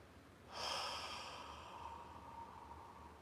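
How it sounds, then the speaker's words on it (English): A single long, breathy exhale during a guided neck stretch, beginning sharply and trailing off gradually, close and quiet with no talking. "Either way, exhale as much as you can."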